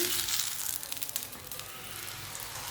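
A freshly flipped besan paratha fries on a hot pan, giving a close, continuous hiss of sizzling oil with small crackling pops and no talking.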